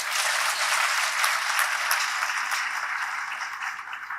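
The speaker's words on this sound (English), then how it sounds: "we should clap for them" An audience claps for graduate students at a university event, a steady wash of many hands that stays fairly even and eases slightly toward the end.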